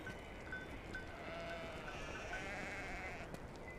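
Sheep bleat at a tribal chief's camp, with a couple of thin, wavering calls rising over a dense, steady wash of outdoor crowd and background noise.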